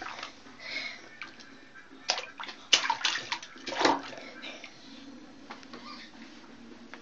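A child plays in a bathtub, stirring up water in bursts of sloshing and splashing with several sharper splashes near the middle, quieter swishes in between, and faint voices in the background.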